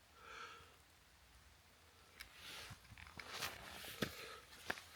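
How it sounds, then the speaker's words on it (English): Rain falls in a forest, a diffuse hiss of drops on leaves and ground that grows heavier, with sharp individual drips and a few footsteps or rustles close by. "it started raining so hard."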